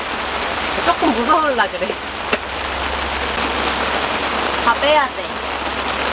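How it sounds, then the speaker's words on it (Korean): Heavy rain pours steadily onto a camping tent during a downpour, a dense constant hiss throughout, while a person talks briefly over it. "빗소리는 진짜 좋은데"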